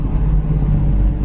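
A 1966 Ford Fairlane engine drones steadily up close with a low, even rumble and a faint hum as the car is shifted down into second through a ratchet shifter, with no clear rev spike.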